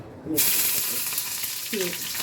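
Hot white cooking oil sizzling steadily in a pan, a close, continuous hiss that starts abruptly and holds for about two seconds, with brief faint voice fragments underneath.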